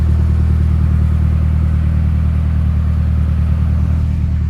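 Car engine running steadily with a rebuilt T2871R turbo, a constant low idle drone with a regular pulsing rumble, loud and close, no voices.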